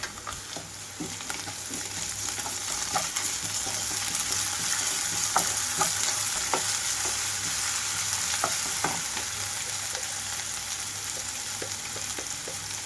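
Onions fry with ginger garlic paste for tindora masala in a steady soft sizzle, with a faint low hum beneath and scattered light ladle taps and scrapes throughout.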